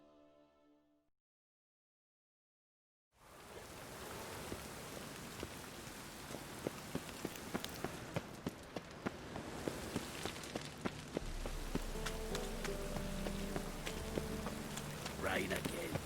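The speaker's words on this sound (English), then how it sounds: "Rain again." Steady rain falls in The Witcher 3, a dense hiss of drops with sharp spatters and occasional splashes, beginning after a brief silence and holding evenly to the end, with a low rumble joining later.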